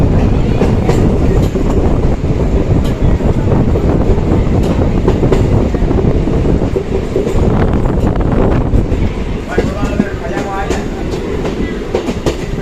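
A train runs loudly on rails through a sharp curve with a continuous rumble and rhythmic clickety-clack, heard up close from onboard.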